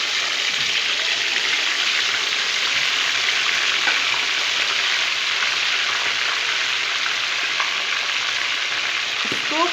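Chicken tikka pieces fry in hot oil in a pan, giving a loud, continuous close-up sizzle with a dense crackling hiss that holds steady throughout, without speech.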